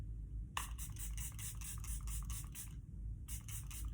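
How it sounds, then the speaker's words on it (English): Seint setting spray misted onto a face: a long hissing spray burst of about two seconds, a short gap, then a second shorter burst, close and fairly quiet over a low background rumble. "I'm gonna spray it on my face."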